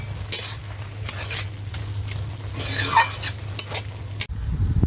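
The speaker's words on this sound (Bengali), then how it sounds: "দিয়ে দেবো ধনিয়া গুঁড়ো, নেড়ে চেড়ে সুন্দর করে মিশিয়ে নেব।" Spoon stirring coriander powder into a banana flower curry in a pan, with scraping strokes over a steady low sizzle from the cooking, close and clear, then an abrupt drop near the end.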